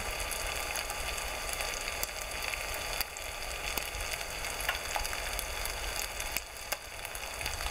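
A bass fillet fries in a pan with a steady, dense sizzle and crackle, close and continuous with small pops, no voices over it.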